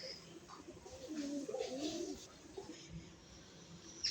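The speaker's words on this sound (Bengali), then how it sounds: "এই দেখো, এখনো কিছু কবুতর খাচ্ছে এখনো।" Domestic pigeons feeding at home give soft, low cooing phrases in the middle of the stretch, fairly faint over quiet background noise.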